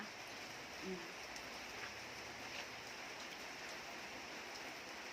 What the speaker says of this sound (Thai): ทางนอกฝนตก